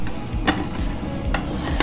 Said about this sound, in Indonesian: jadi cara menggoreng telurnya